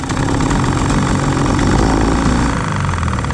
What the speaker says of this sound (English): That's perfect idle right there. Yeah, boy, we got a motor that runs.